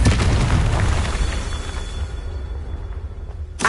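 Confringo fire spell blasting in the Hogwarts Legacy video game: a heavy booming explosion at the start that rumbles and decays over several seconds, with a second burst at the end.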